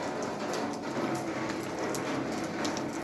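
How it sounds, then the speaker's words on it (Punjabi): Heavy rain pours steadily over a rural Punjab village rooftop, a dense continuous hiss with scattered drip impacts, close and loud, without a pause. "ਇੱਧਰ ਵੀ ਮੀਂਹ ਕਾਫੀ ਜ਼ਿਆਦਾ ਪੈ ਰਿਹਾ"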